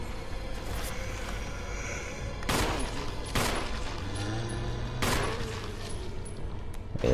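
Gunfire in the survival horror game Resident Evil, several loud separate shots spaced a second or so apart over a steady ambient background.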